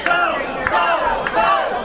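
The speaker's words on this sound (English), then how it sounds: "As this crowd comes off their seats here" Loud pro wrestling crowd at an Atlantic Pro Wrestling show roaring and yelling as fans rise from their seats after a hard-fought match, a sustained dense mass of cheers with a few sharper peaks.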